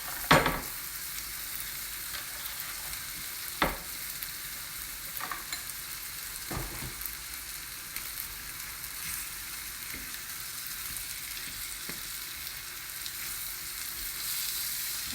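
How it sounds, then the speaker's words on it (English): Chicken and chorizo jambalaya vegetables fry steadily in a pan, with a continuous sizzle and occasional scraping stirs and clinks of the spoon throughout, no talking. "I'm going to add in the balance of the vegetables."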